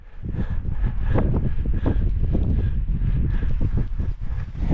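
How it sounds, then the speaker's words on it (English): Cold wind buffets the microphone on a mountain crest along the Pacific Crest Trail, a continuous low gusting roar that rises and falls throughout. "But it's windy and cold up here."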